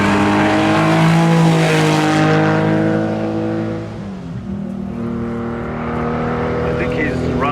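Porsche 904 FF Special hillclimb car with a flat-six engine, loud and close, its harmonic howl sliding down in pitch as it passes, dipping briefly, then building again as the revs climb.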